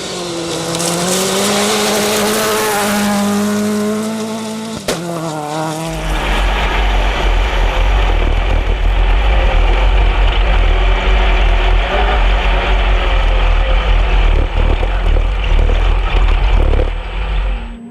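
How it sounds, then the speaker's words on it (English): A VW Polo rally car roars past at Algoa Rally 2024. The engine rises sharply as it approaches, then a loud, sustained near pass follows with heavy low rumble that holds to the end. "Next up would be the Hello VW Polo of Niels Vosloo and Rikus Fourie."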